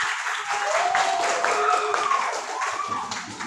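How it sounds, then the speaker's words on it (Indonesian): A seventh-grade class at an Islamic junior high school claps hands together, a busy patter of many claps with some whistle-like voices rising over it. "tepuk tangan"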